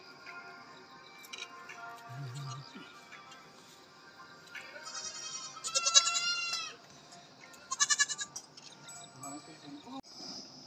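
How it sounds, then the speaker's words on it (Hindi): A goat bleats in a Garhwal village in Uttarakhand, a few short quavering calls rising out of quiet outdoor background, with someone talking nearby. "और ये बकरी बाहर आ चुकी है वहाँ से।"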